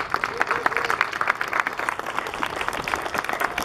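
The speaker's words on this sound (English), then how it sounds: "So please give him a big round of applause" Audience applause at a sockeye salmon festival on the Adams River, dense steady clapping filling the whole stretch with a few louder claps popping out from a mid-sized crowd.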